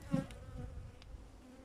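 Honeybees hum around an opened hive as sugar syrup is added, a soft steady buzz close by with a few louder passes near the start.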